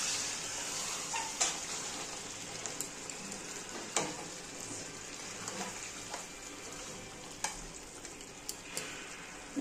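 Chicken kosha curry with potatoes being stirred in a pan after water is added, a soft bubbling simmer with occasional scraping clicks of the spoon, faint and steady without talk.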